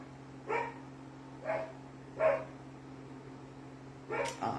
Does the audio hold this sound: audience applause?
no